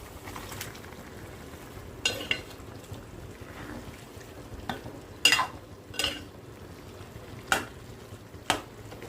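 Liver goes into a pot of simmering water, with a quiet bubbling bed broken by several sharp utensil clinks and scrapes against the pot at irregular intervals.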